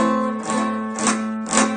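A strummed open guitar chord rings three times in a row, sounding dull and choked as several strings are muted.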